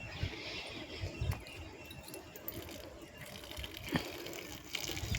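Water gushing along a channel to irrigate a mustard field, a continuous rushing flow with some louder splashy surges and faint clinks mixed in, heard without speech.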